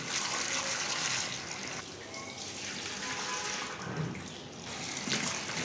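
Cut elephant foot yam washed under running water, a continuous splashing gush with some sloshing, fairly quiet and close.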